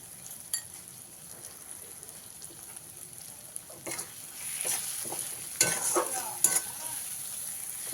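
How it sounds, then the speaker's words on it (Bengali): Masala sizzling in oil as it is stirred in a pan for a raw banana kofta curry, a soft steady frying hiss broken by scraping stir strokes and small sharp clinks, with no voices. "এইভাবে মশলাটা আমি সুন্দরভাবে কষিয়ে নিয়েছি মশলা থেকে তেল ছেড়ে গেছে"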